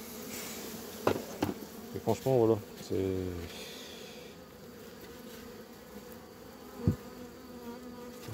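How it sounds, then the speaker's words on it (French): Honey bees buzzing around an opened hive box, a steady faint hum under someone speaking, with a few brief handling knocks. "On va lui prendre un peu des abeilles tout de suite"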